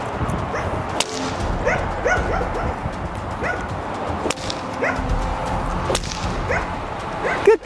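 Two Belgian Malinois bark repeatedly and excitedly at close range during protection training, punctuated by a few sharp cracking pops from a popper.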